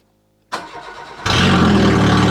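A Citroen BX engine starts and runs steadily up close, its idle jumping to a louder, fuller roar partway through as the car is moved onto a lift, with no talk.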